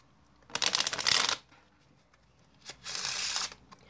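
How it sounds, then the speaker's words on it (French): A deck of playing cards is shuffled twice during a magic trick, each shuffle a quick riffling burst of about a second, separated by a short quiet gap. "on fait mélanger le jeu à un spectateur. Comme moi, j'en ai pas, je vais le faire moi-même."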